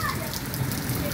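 Heavy rain pours onto an asphalt street in Cariúnde, a dense, even hiss of drops close by, with a voice speaking over it.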